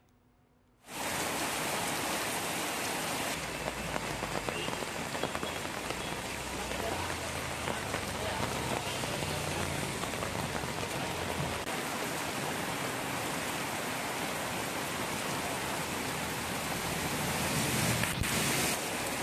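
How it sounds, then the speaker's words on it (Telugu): Heavy rain in Hyderabad pours down in a dense, constant roar, starting abruptly after a moment of quiet and holding steady to the end. "హైదరాబాద్లోని పలు ప్రాంతాల్లో భారీ వాన కురుస్తోంది."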